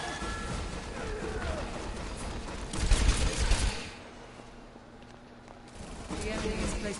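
Gunfire and combat noise from the Overwatch video game, a dense busy mix with a louder burst of shots near the middle, then a quieter stretch before the action builds again.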